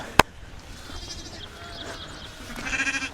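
Ewes bleat in a pasture among newborn lambs, faint and distant at first, then a clearer, louder bleat near the end, after an early sharp tap.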